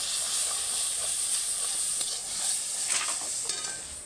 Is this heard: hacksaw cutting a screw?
no